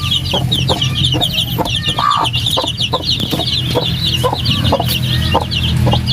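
Hens clucking steadily with chicks peeping, a busy flock of brooding mother hens and new chicks on a farm, continuous and fairly close with a low background hum throughout.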